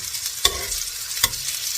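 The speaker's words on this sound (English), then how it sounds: "we're just going to kind of saute them for a few seconds" Shrimp sautéing in a pan for a shrimp and butter bean stew, a steady soft sizzle broken by two sharp stirring clinks from a utensil, with no talking.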